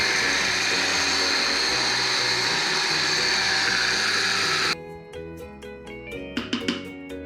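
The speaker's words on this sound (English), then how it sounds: "Just a little egg white, seasoning, garlic, lemon zest, and crab meat blended into submission to create a delicate binder" A countertop blender whirs loudly and steadily, puréeing crab meat, egg white, garlic, lemon zest and seasoning into a mousse, then cuts off abruptly near the end, leaving a few clanks and knocks of the jar.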